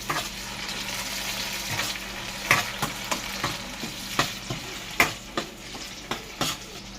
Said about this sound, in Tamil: சின்ன வெங்காயம் நல்லா வதங்கிருச்சு.